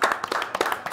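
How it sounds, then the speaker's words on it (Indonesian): A few people clap in a studio during a talk show about Indonesian football supporters. The claps are close, sharp and irregular, about eight of them in a second. "Oh luar biasa, tepuk tangan dulu."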